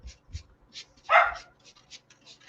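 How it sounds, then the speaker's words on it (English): A small dog barks from another room indoors, a few soft yips followed by one louder sharp bark and more faint yaps, somewhat distant with no talking. "I am so sorry about my little dog,"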